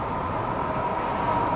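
An electric train running on overhead lines passes nearby in Voerde, a steady rushing rumble that holds at an even loudness for a brief moment with no voices.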